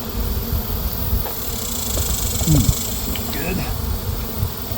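Bees swarm around neglected, falling-apart hives on a remote property, a steady close buzz with individual insects droning past. A voice briefly speaks one word.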